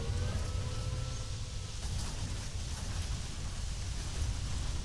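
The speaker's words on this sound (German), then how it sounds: "ich habe jetzt mal ein bisschen dafür entschieden, dass wir mal im Regen fahren." Steady rain patters on a bus while driving in the OMSI 2 bus simulator, a constant wash of drops on the roof and windows with low vehicle rumble underneath, even and unbroken throughout.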